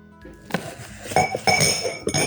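Drinking glasses for home use, a set of six, clink together as they are handled, a few bright chiming knocks over soft background noise.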